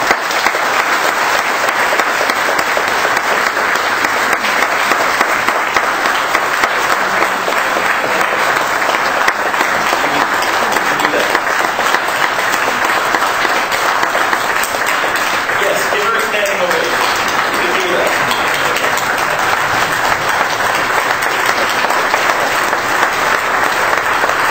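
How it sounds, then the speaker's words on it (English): A church congregation at a funeral service breaks into sustained applause, a dense, even wash of many hands clapping that lasts over twenty seconds, with faint voices mixed underneath. "it's okay to clap in church"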